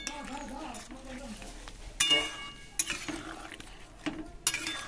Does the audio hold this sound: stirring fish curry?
yes